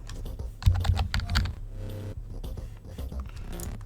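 Rapid typing on a computer keyboard, a dense run of close, crisp key clicks with a brief pause partway through, alone with no talk.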